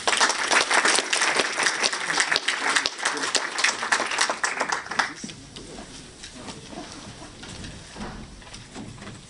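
Audience applause welcoming a speaker at an academic talk, loud dense clapping for about five seconds that then fades into scattered claps and room noise.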